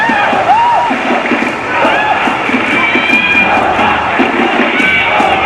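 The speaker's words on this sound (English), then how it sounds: "Crowd making plenty of noise." Stadium crowd at a Roma Women versus Como women's football match making sustained loud noise, with chanting and cheering filling the air throughout.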